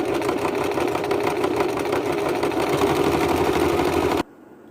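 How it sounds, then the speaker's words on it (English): A sewing machine stitches a patchwork crop top, giving off a steady, close mechanical whir with a rapid needle rhythm. It runs continuously, then cuts off abruptly just before the end. "Sewing the other side on the sewing machine"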